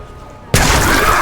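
Sudden loud explosion in a film scene inside an office, bursting in abruptly after quiet and sustaining a dense, crackling roar with voices mixed in.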